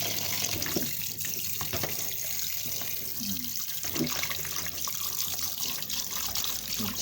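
Mie ayam noodles are rinsed under a running kitchen tap, giving a continuous close splashing hiss of water with small shifts in the flow and no talking.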